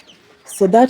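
Chickens clucking in a backyard poultry run behind chicken wire mesh, a few close, loud harmonic clucks arriving in quick succession after a quiet start.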